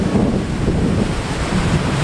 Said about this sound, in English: Probably good for surfing as well, I think, because of some big waves.